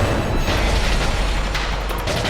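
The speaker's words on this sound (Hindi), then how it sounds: "तोप चलाओ।" A cannon firing: a sustained, loud, broadband roar of blast and rumble that fills the whole moment, with a couple of sharper bursts near the middle and end.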